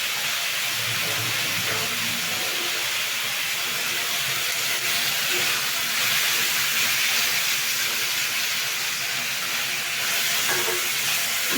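Tomatoes cooking with salt in a pan for a simple tomato gojju, giving a steady close hiss and sizzle of steaming, frying food with faint stirring scrapes throughout.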